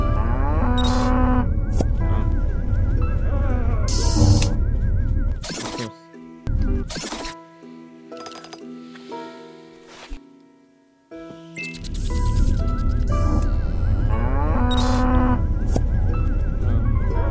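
A cow moos several times in a game, long loud lowing calls in two bursts separated by a quieter stretch of other game sounds and music.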